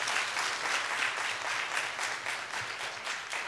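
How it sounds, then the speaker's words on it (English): Sustained applause from a church congregation during a Sunday service, a dense steady wash of many hands clapping throughout at an even, fairly loud level. "Let's give Brother Zechariah a round of applause."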